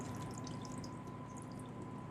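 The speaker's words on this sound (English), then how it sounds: "All we want to do is take the chicken now, and we want to pour the rest of the liquid out now." Cooking liquid pours out of a pan of baked chicken thighs as a soft, continuous trickle with faint drips, steady for a couple of seconds under a low background hum.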